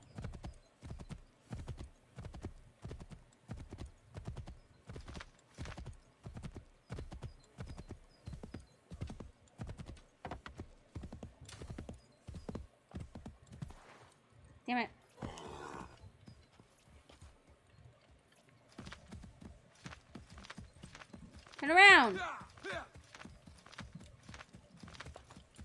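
Hooves clip-clop in a steady, even rhythm as a horse moves along a town street in Assassin's Creed 3, with a short whinny near the end; fairly quiet and close, with no talking over it.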